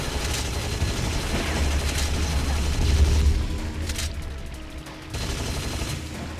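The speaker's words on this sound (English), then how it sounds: "Grenade exploded right as the person was riding the elevator." A grenade blast booms in Unreal: Return to Na Pali amid ongoing gunfire, a dense, loud rumble building to a heavy low burst before dropping off, then rattling fire resumes.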